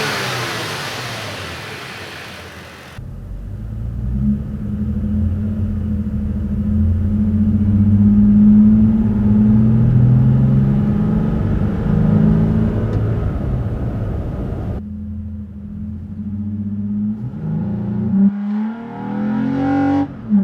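A Toyota Tacoma fitted with an S&B cold air intake revs hard and close by, its throaty engine note rising and falling through sustained pulls after a brief burst of noise, then dropping back to idle before one more rev.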